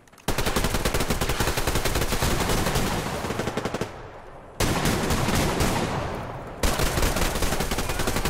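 Sustained shotgun fire in the online shooter Survarium, a dense run of loud, rapid blasts with brief gaps near four and six and a half seconds, close and continuous with no talking.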